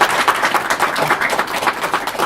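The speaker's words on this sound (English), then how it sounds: "So give them a big round of applause," Audience applause at an IEEE EPICS award ceremony held at Albany Medical Center, a steady wash of many hands clapping at moderate volume without pause for a couple of seconds.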